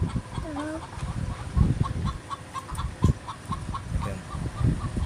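Hens on a poultry farm, some unwell with colds, cluck and murmur in a steady scattered chorus of short repeated calls, with a few louder squawks standing out near the start.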